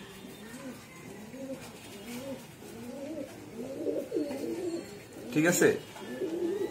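Domestic pigeons coo steadily in a rhythmic series of soft, rolling calls nearby as rings are fitted to their legs, with a brief louder flutter or scuffle near the end and someone talking quietly over them.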